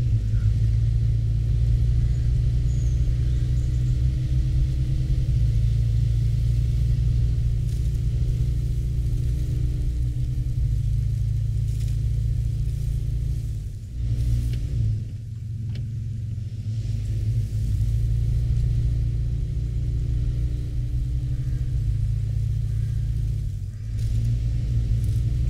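A heavy truck engine in the SnowRunner video game runs at high, strained revs as the driver overfeeds fuel crossing rocky ground, a loud, steady low rumble holding throughout with brief dips, and no talking over it.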